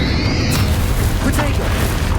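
Confringo and Bombarda spells explode in a Hogwarts Legacy battle, a loud booming blast with a rumbling tail over steady heavy combat noise and a few sharp bursts.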